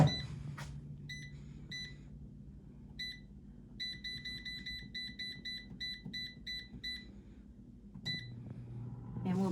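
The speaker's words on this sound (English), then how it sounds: "All right, it's ready to go back into the air fryer." An air fryer cooking chicken parmesan beeps again and again in quick electronic clusters over a low, constant fan hum.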